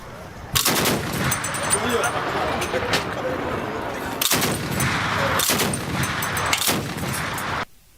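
Heavy gunfire and pounding bangs from military strikes on enemy camps in eastern DRC, heard as repeated sharp loud blasts and bursts over dense background noise and rumble, with several hard impacts spaced through the stretch.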